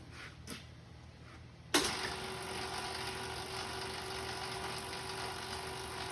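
A motor-driven lead screw carcass drop elevator starts up after a short quiet spell and raises its load, a sudden switch-on followed by a steady mechanical hum with a constant whine, close by.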